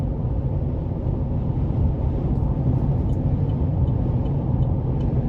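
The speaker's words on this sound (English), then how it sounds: "wind noise is about the same as in the other ones. You can hear it, but it's not overly intrusive" Steady broadband wind and road rush fills the cab of a 2021 Chevy Colorado WT with the 3.6 engine and 4WD while driving, a constant low roar with no voices.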